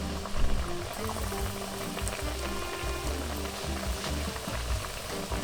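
Kabalagala banana pancakes fry in a pan over medium heat, giving a steady close sizzle with small bubbling pops that runs evenly throughout without talk.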